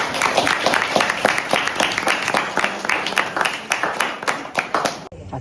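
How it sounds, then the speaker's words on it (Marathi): A group of people clapping together on a Konkan trip, a dense, fairly loud burst of rhythmic hand claps that runs steadily for several seconds and stops abruptly at the end. "सर्वांनी टाळ्या वाजवा।"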